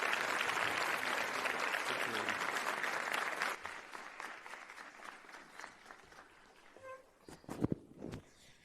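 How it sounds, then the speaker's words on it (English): Audience applause for a minister coming to the podium at a learner-leadership summit, a dense burst of clapping from a crowd that fades out after a few seconds, followed by footsteps and light knocks. "Can you all kindly rise and give a round of applause as she's coming to the podium?"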